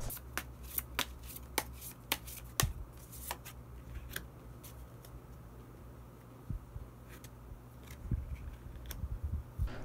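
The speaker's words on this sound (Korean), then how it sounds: "그러면 마지막으로 히든 카드 한 장 더 뽑아보도록 하겠습니다." Tarot cards are shuffled by hand before a hidden card is drawn: a series of crisp, close riffling snaps and soft card-slapping bursts, with quiet pauses and fabric-like rustling between them.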